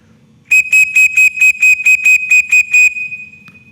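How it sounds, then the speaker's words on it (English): Emergency whistle at a shooting range sounds ten short, loud, evenly spaced shrill blasts in quick succession, followed by a faint tail of background noise. "it's the 5-blast emergency whistle"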